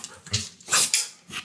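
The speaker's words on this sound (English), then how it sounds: "We have some background disturbances going on by the dogs" Dogs in the room whine and whimper in a few short bursts, with a soft breathy growl between them, fairly loud and close with no speech.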